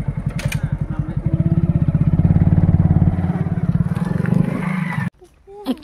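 A motorcycle engine rumbles loud and steady on a forest road in Jangalmahal on the way to Ketaki waterfall, running for about five seconds before cutting off abruptly, leaving near silence.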